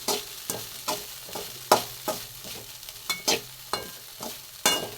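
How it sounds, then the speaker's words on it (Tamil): Red poha and sago being stir-fried in ghee, a spatula scraping the pan in regular sharp strokes about twice a second over a light sizzle, close, with no voices. "இப்போ சிவப்பவுல் வெள்ளை உலையும் நம்ம நல்லா நெய்யிலேயே நல்லா கிண்டிக்கணும்"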